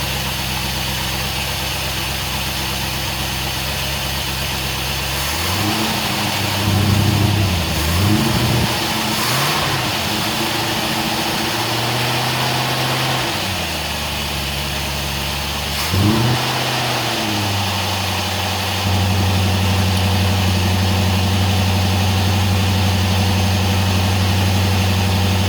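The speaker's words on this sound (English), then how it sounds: "Still on a fast idle." A Ford XD Falcon V8 running on fast idle during a choke problem, steady loud engine drone with a few brief revs rising and falling in the middle, then settling into a higher, even idle; no talking.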